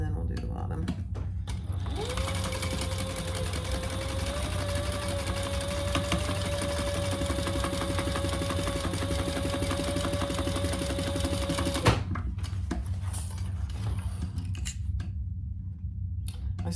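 A sewing machine runs steadily, stitching the bottom seam of a shoulder bag, a close continuous mechanical whir for about ten seconds that stops abruptly, with a voice speaking over it.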